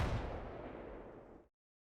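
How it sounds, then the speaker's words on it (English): A secondary explosion booms in the war game Combat Mission: Black Sea, a single loud, deep blast with a rumbling decay that cuts off abruptly after about a second and a half. "Some secondary explosions."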